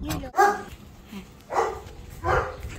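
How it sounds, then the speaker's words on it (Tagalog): Dogs bark at a house with a vet's clinic, three separate barks spaced about a second apart, fairly close and loud, with quieter background noise between them. "Dami nilang aso."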